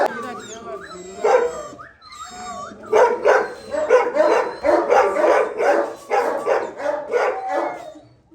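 Gultair bully dogs bark and yip close by in a rapid run of loud bursts, after a few whines and yelps at the start.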